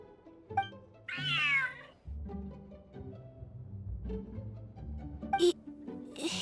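A cat meows once, clear and close, in the video game Feline Fortress Furrdyssey, amid soft in-game ambience and a few brief electronic chimes.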